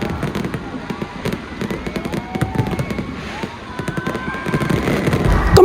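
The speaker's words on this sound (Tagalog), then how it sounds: "dahil alas 9 ng gabi dito sa may Ayala Center, Cebu ay may grand fireworks display." Grand night fireworks display at the Sinulog Festival by Ayala Center in Cebu: loud, rapid bursts and crackling pops, dense and continuous, with crowd voices underneath and a heavy thump at the end.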